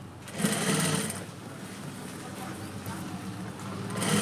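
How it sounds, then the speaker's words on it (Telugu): A sewing machine runs fast while stitching rows onto a baby cap, giving a whirring rattle of rapid stitches that surges at the start and end and eases off in between. "ఒక లైన్ కుట్టుకున్న తర్వాత మళ్ళీ దీని పక్కనే ఇలా అనుకొని దీని పక్కనే ఇంకొక వరుస పెట్టి కుట్టుకోవాలి"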